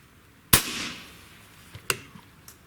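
A single sharp shot from an AEA HP SS Max .35 caliber airgun pistol cracks close by, its echo fading over a second, followed by a couple of fainter clicks and knocks.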